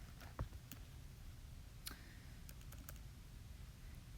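A few light key presses on a calculator, sparse quiet clicks scattered over a low steady background hum, with no voices.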